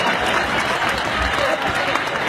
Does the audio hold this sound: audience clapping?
yes